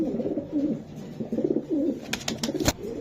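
Racing pigeons, a hen and a cock, coo in repeated low throaty phrases close by, with a few brief sharper bird calls and scuffs near the end.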